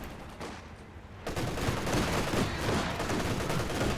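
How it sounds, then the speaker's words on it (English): Light artillery barrage in a video game battle, a dense rumbling roll of distant blasts and crackling fire that swells suddenly after a brief quieter start and continues loud and sustained. "The light artillery barrage. You can do such long-range barrages."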